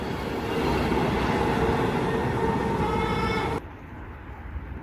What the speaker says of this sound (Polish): Za chwilę z Elfy wyłoni się skład z Berlina do Warszawy Wschodniej kategorii Express Intercity